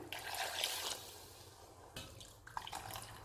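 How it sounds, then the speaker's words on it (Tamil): Water is poured into a pot of Chettinad kuzhambu curry: a short splashing pour, a pause, then a few more quiet splashes and drips, close and faint. "இப்போ மீத தண்ணி சேர்க்குறேன்"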